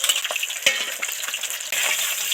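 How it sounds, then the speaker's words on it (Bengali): Katla fish tail pieces frying in hot oil give a steady high sizzle with bubbling crackle, a soft clink near the start and a louder surge of spitting near the end. "লেজাটা তাড়াতাড়ি ভাজা হয়ে গেল।"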